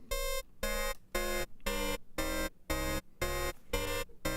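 Modular synthesizer chord stacked from multiple oscillators, pulsing as eight evenly spaced bright buzzy bursts with a harsh, slightly dissonant tone, fairly quiet and with no voices.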